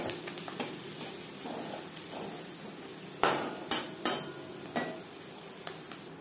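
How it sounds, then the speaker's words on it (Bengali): Chopped onions with a pinch of turmeric sizzle steadily in a pan, broken by several sharp metallic scrapes and clinks of a utensil stirring, close and alone with no talk. "পেঁয়াজ লালচে করে ভাজা হয়ে গেছে"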